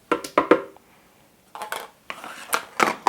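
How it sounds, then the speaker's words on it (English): Silken tofu tossed into a high-speed blender jar, heard as a cluster of close, sharp clatters and scrapes, then a pause, then more rapid knocks and taps against the container. "So I'm going to toss this in my high-speed blender."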